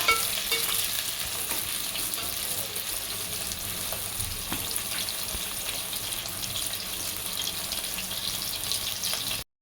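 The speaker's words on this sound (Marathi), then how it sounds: "आपण त्याप्रमाणे कांदाही टाकून घेणार आहोत. मिरची पण टाकणार आहोत." Chopped onion and green chillies sizzle in a pan for a Maharashtrian dal aamti, a steady frying crackle with light stirring scrapes, moderately quiet and without speech.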